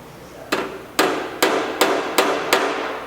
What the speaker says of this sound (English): Ironically, this is called the door skinning hammer.